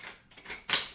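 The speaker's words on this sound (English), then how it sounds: "click our pole into place" Paint roller extension pole clicking into place, a few quick plastic clicks within a second, close and crisp, the last one loudest.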